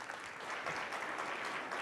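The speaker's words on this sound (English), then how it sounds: "Can we have a round of applause for our panelists" Applause from a conference audience for a panel at a startup event's main stage, a steady even patter of many hands clapping, fairly distant and soft, with no talk over it.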